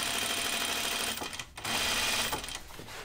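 Sewing machine stitching Ginger jeans, a fast, busy whirring run of stitches that stops briefly, restarts, then winds down in a short burst, close and clear.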